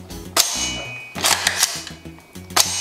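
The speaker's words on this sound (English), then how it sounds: "We're gonna do a magazine test on this thing and a couple of function checks" An AR-type PDW rifle on a nickel boron AERO build goes through a function check: crisp metallic clacks and snaps of the action and trigger, several spaced sharp hits over a low tonal background.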